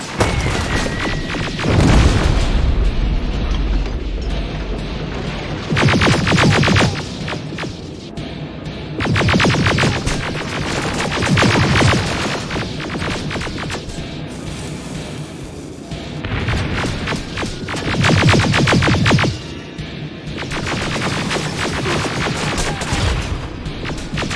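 Gunfire and explosions in the Terminator Resistance video game, loud bursts of rapid shots and heavy booms in repeated waves separated by brief lulls, close and dominant.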